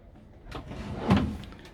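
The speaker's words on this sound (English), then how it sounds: "Let's have a look at the drawers now." Drawer in a camper van pulled open, a short soft sliding rumble with a brief thud near the end, close and moderately quiet.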